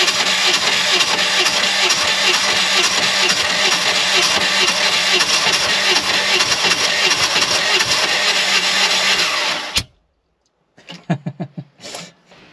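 Two-cylinder engine of a rare 6x6 all-terrain vehicle running loud and close with a rough, uneven throb, then cutting out abruptly into silence before brief sputtering restart attempts.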